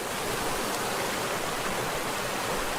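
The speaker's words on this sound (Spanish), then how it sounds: "Está lloviendo." Rain falling at an abandoned house makes a dense, steady hiss that stays even and close for the whole stretch, with no voices.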